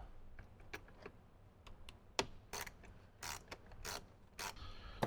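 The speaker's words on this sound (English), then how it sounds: "then we'll grab our 7mm socket and get those tightened" A 7mm socket ratchet tightens speaker bolts inside a 2018–2023 Jeep JL, giving a run of quick, close clicks in short bursts with small metallic knocks between them.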